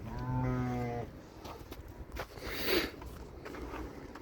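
A lamb bleats once, clear and close, at feeding time on a shepherd family's farm, followed by quieter shuffling and faint farmyard noises.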